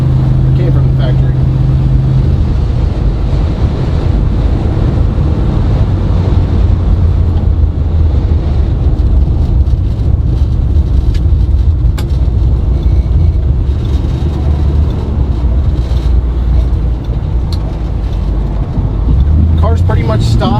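A stock 1964 Chevy Nova SS cruises down a straight road, its engine droning steadily under wind rumble while someone talks throughout from inside the car.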